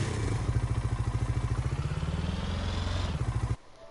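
Mahindra vehicle engine in a driving video game, a steady rough rhythmic chug with rising pitch as it accelerates, loud and continuous, then cut off abruptly.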